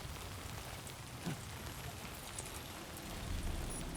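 Timefall rain in the video game Death Stranding 2: a steady, soft hiss of rain falling on surfaces, faint and even throughout with no talk.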